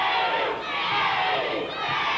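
A large wrestling crowd chants a taunt at a heavyset wrestler at a 1987 IWA Carolinas event, a loud, steady roar of many voices rising and falling in rhythmic waves.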